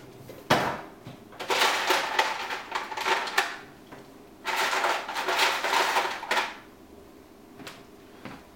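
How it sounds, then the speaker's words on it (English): Ice cubes clatter into a plastic shaker bottle holding protein powder, two bursts of loud rattling and knocking separated by short pauses, close and with no voices. "Put a little extra ice in here."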